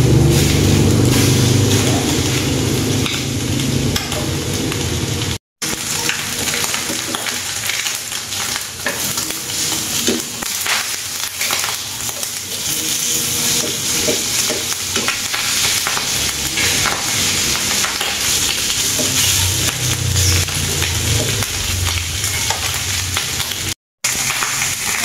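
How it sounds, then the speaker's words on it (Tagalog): Pork belly fries with no added oil in a pan, a dense, loud, continuous sizzle and crackle that runs unbroken and close throughout, with occasional stirring scrapes and no voices. "Ito namang belly. Ipiprito ko na siya. Hindi na ako naglagay ng ng mantika dito."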